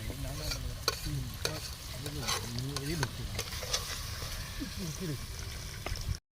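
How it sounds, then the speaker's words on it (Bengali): Chicken kosha gravy bubbles in a pot, with a close, busy stirring and simmering texture and occasional clinks under a person speaking throughout. "ঝোল ফুটে গেছে প্রায় হয়ে এসছে"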